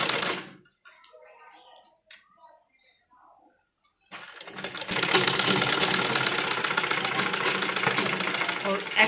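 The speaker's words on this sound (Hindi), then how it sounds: "उसके किनारे किनारे एक पैर की सिलाई लेकर चलेंगे" A sewing machine stitching along the neckline edge of a child's umbrella frock runs in a steady fast mechanical whir for the last five seconds, close and loud, after a stretch of quiet speech and brief fabric handling.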